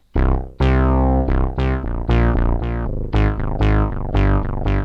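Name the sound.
Prophet 5 synthesizer bass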